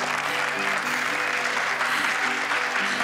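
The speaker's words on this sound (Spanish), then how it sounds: "pido un aplauso para ella." Audience applauding for a show organizer, a loud, steady wash of clapping that holds evenly from start to finish.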